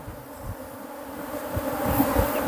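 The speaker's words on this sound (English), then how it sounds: "So the bees are everywhere right now." Swarming bees buzz close by at an agitated beehive, a steady, dense droning hum with no talking.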